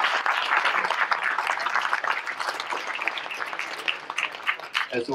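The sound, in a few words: audience applause at an outdoor event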